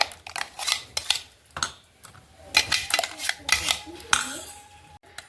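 Raw green mango paste is poured and scraped into a bowl with a spoon, giving a string of sharp clinks and knocks against the dish at an uneven rhythm, close and fairly loud.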